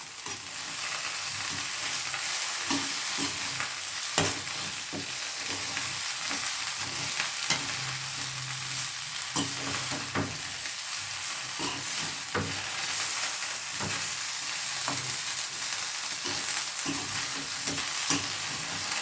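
A kilo of chicken coated in sauce being stirred in a pan, with a continuous close sizzle and repeated scraping and stirring strokes, with no talk.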